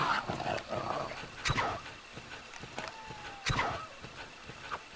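A dog in the video game Resident Evil barks and snarls in short, sharp bursts, several times over a few seconds, fairly close over game background sounds.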